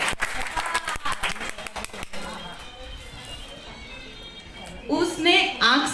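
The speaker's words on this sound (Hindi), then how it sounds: "तो आपकी तालियों से पता चलना चाहिए आपका जोश कैसा है।" Audience applause for a senior citizens' group dance-drama performance, a quick run of dense, lively claps that thins out and fades after about two seconds, followed by a quieter lull and then a voice.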